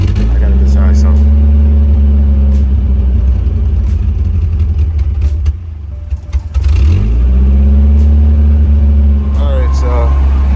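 A 1985 Nissan 720 pickup hauling a camper drones steadily while driving on the road, its loud mid-pitched engine hum dipping briefly mid-way as it shifts, then climbing again.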